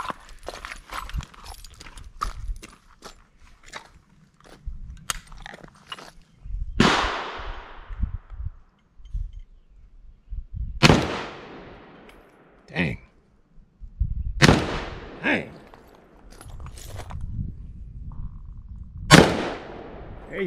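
An AK rifle fires at an outdoor shooting range, sharp loud single cracks spaced a few seconds apart with echoing tails, amid clicks and handling noise and people talking between shots.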